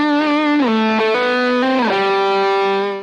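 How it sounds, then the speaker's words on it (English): Overdriven electric guitar played through a ToneX One pedal on a Dr.Z amp preset, a few sustained distorted chords changing pitch in a steady sequence, clear and close with no talking. "I change the amp presets of my ToneX one to something more overdriven, which is my Dr.Z and my Divided Duo."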